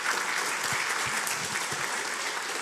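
Congregation applause at a church sermon, a steady broadband wash of clapping lasting the whole stretch at even loudness, with a few low thumps underneath.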